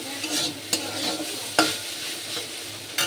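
Food sizzles and fries in a pan in a home kitchen, punctuated by several distinct scrapes and knocks of a stirring utensil against the pan.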